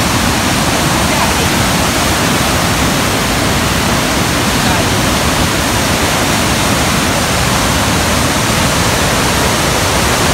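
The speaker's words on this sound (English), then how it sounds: "I'm sure you can hear the sound of the water." Rushing water at a natural swimming spot, a loud, steady, broadband roar like a small waterfall or fast stream, continuous and close throughout.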